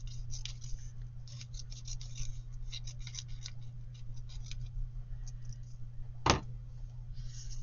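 Scissors snip paper pieces for a pocket roadster model in a run of quick, soft cuts, close and quiet over a steady background hum, with one sharper click near the end.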